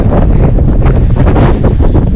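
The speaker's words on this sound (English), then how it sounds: "It's so cold, so snowy, so windy." Strong gusting wind buffets the microphone high on snowy Cotopaxi volcano in Ecuador, a loud continuous roar with surging gusts throughout, no voices.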